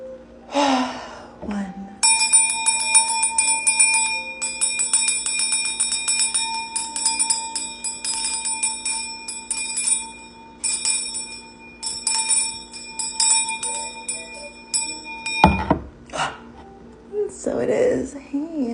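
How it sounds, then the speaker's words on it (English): A hand bell rings rapidly and continuously for over ten seconds with bright, shimmering tones, framed by brief speech before and after. "We'll start with a sound clearing, as usual, with my mother Oshun's bell in 3, 2, 1."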